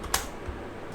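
A couple of sharp clicks from a computer keyboard being typed on, close and crisp over a quiet background.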